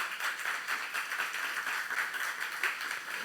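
A church youth congregation at a Korean sermon claps together in a steady, fairly soft wash of applause lasting a few seconds, with no speech over it.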